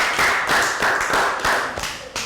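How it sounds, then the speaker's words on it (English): Year 3 maths classroom applause for a pair of students after a length-measuring activity: steady, fairly loud clapping from a group of children, with a rhythmic, slightly uneven pulse throughout. "Rounds of applause for pair number 3."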